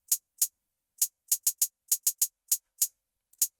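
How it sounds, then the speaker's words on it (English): A TSG closed 808 hi-hat sample played on its own in a beat, crisp short ticks in an uneven, syncopated pattern, dry and isolated with silence between hits. "The hi-hat I use is called TSG hi-hat closed 808, and isolated it sounds like this."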